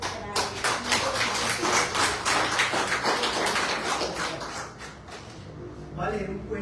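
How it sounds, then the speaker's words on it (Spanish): Dense applause from an audience honoring a writer at a reading workshop, many hands clapping steadily for several seconds before tapering slightly near the end. "Un aplauso para él."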